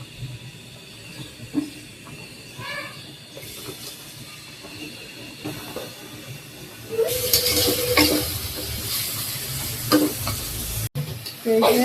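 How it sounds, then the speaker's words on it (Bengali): Spices and tomato being stirred and fried in a pan for a fish curry, a steady sizzle with scraping stir strokes that grows louder and brighter partway through, no talk. "এই যে মাছ ভুনার জন্য মশলা কষাই নিতেছি, তো সাথে টমেটো দিছি।"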